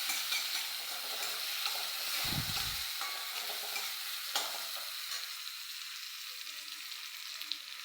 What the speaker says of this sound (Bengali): পেঁয়াজ, রসুন, টমেটোটা দিয়ে দেবো। এটা ভালো করে কষাবো লাল লাল করে